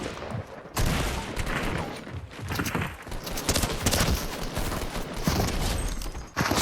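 Rapid gunfire in the video game Fortnite, loud dense bursts of shots and impacts following one another almost without pause, close and continuous.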